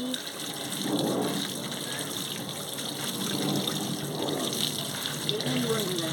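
Tap water runs steadily while chopped cabbage is rinsed for a cabbage fritter curry, a continuous close gush that swells at times as the leaves are rubbed and turned under the stream.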